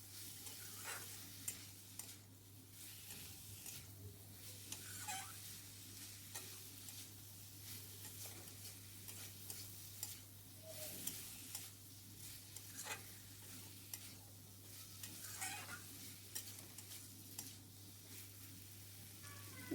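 Mixed vegetables are sautéed in a pan, a faint, steady sizzle under repeated soft scraping strokes of a spoon, heard close with no one speaking.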